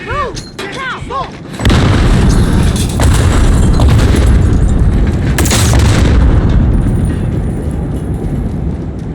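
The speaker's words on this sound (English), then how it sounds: "Grenade!" A grenade explodes in the Modern Warfare video game with a heavy, loud boom that rumbles on for several seconds after a brief burst of shouting voices.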